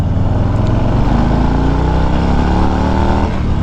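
A 2021 Harley-Davidson Street Bob 114 motorcycle engine drones loud and close while riding, its deep rumble rising steadily in pitch as it accelerates, with no voices.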